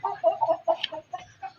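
An Aseel hen and rooster cluck in a series of close, distinct calls, several short bursts with pauses between, fairly loud and clear with no talking over them.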